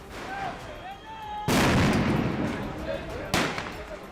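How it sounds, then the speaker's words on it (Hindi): Two sharp, loud stun grenade blasts, the first about a third of the way in and the second near the end, each leaving a roaring broadband wash. "हथगोलों के विस्फोट की कान फाड़ आवाज"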